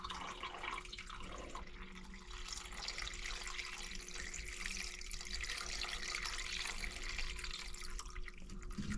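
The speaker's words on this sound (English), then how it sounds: "Water is draining down." Water drains steadily down a pipe beside a faulty water sensor, a continuous trickling, gurgling flow heard up close and alone for several seconds.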